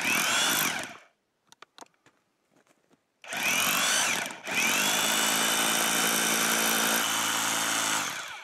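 An SDS rotary hammer drill with a 1.5-inch coring bit roars in a loud burst, stops for a few seconds of faint clatter, then starts again and grinds steadily through the material.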